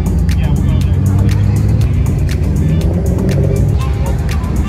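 Modified cars, including a lowered Nissan Z, a Liberty Walk Maserati and a Mazda RX-7 FD, roll into a car meet one after another under loud engine rumble and revving, with a person talking in Japanese over the noise.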